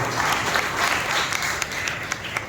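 A congregation at a New Year worship service applauds loudly, dense steady clapping filling the space for the whole stretch with no voices standing out.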